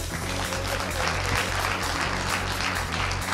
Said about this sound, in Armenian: ծափահարենք